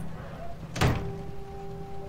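A door thuds shut once with a short, muffled knock as someone walks out, set against a quiet room hum.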